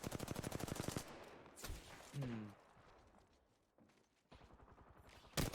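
A full magazine of gunfire in the video game Apex Legends, rapid automatic bursts fired loud at the start and again near the end, with scattered impacts and movement sounds between.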